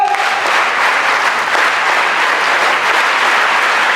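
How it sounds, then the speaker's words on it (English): A large school crowd at a sainik school investiture ceremony claps loudly and steadily for the cadets, a dense unbroken roar of applause close by for the whole span, with no voices standing out. "I think they deserve a big round of applause, all the cadets"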